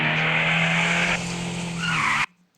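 A car drifts in the Drive Zone: Germany racing game, its tires skidding in a loud, sustained squeal over engine roar that shifts partway through and then cuts off abruptly near the end.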